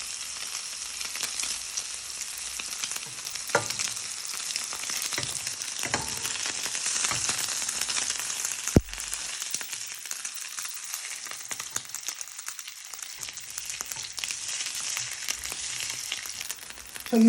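Food frying in hot oil on a stovetop while Chinese starters are cooked, with a steady broadband sizzle throughout, a few sharp spatters, and a loud thump partway through as a piece is flipped.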